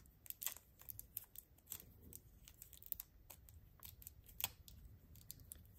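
Scissors snip through the tape-wrapped end of a crochet cord, giving a run of sharp, crisp clicks and small crinkles close by, irregularly spaced over several seconds, with no talking.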